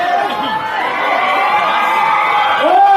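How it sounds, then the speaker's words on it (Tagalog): A studio audience at a television show opening cheers and shouts in a steady, loud mass of voices, without distinct clapping standing out. "yung palakpakan po namin, samahan namin ng sigawan ha."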